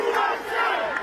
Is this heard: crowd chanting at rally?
yes